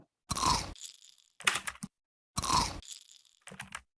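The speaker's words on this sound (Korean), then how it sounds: "씹는 소리, 이건 제가 직접 씹어서 녹음을 했어요" Crunchy chewing right up against the microphone: two loud crisp bites, each followed by a few smaller crunching chews, with silence between.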